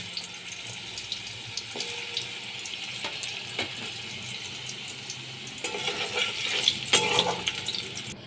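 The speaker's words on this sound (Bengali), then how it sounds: "আলুগুলোকে আমি এবার ভেজে নিচ্ছি।" Potatoes frying in oil for katla fish curry, a continuous watery sizzle with occasional clinks and scrapes of a spoon, growing busier toward the end.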